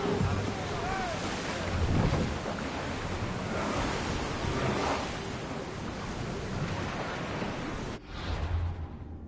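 A sailing ship cutting across the sea in the video game Assassin's Creed Odyssey, a steady wash of waves and wind rushing past the hull, fairly quiet and continuous, with a brief shift near the end.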